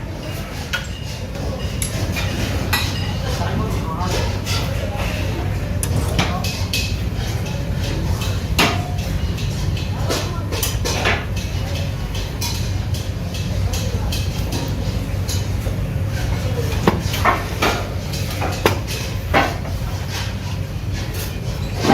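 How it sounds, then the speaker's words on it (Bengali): Inside a cast-iron karai casting workshop, sharp metallic hammer blows and clanks ring out at irregular intervals over a constant industrial rumble, fairly close and loud. "এখানে ঢালাই কড়াই তৈরি করা হচ্ছে।"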